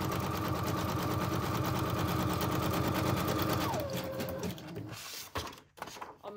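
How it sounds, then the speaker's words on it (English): A sewing machine stitches a little side pocket onto the page of a 1937 Little Golden Book, its rapid needle running steadily and close, then winding down to a stop, followed by faint handling rustles. "I'm going to sew on this little side pocket"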